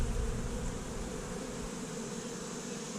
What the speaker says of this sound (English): There's a bee landing on me.